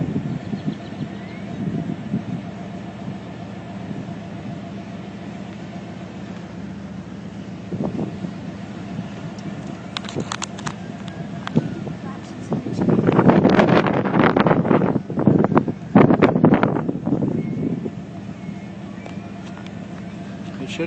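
Wind gusts outdoors near a fertilizer plant explosion in Texas, a rumbling, buffeting roar across the microphone that swells louder midway, under people talking.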